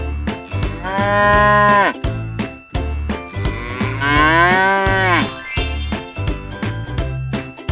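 Two long, loud cow moos up close, the second rising and straining, with faint tinkling like a bell in the background.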